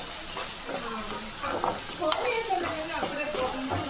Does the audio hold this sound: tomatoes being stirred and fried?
yes